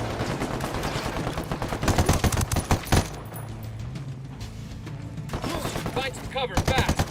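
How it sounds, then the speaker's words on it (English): Close, rapid automatic gunfire in the shooter game Ghost Recon Wildlands, with dense bursts of sharp shots, a brief lull, then renewed volleys and a voice briefly heard among them. "I'm opening fire."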